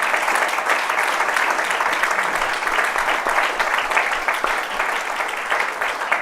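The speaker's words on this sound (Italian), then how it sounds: "concludiamo magari con un applauso questa serata" Audience applause closing an evening talk at a festival, a steady dense wash of many hands clapping that fills the whole stretch without a voice on top.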